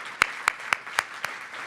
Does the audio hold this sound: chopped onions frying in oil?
no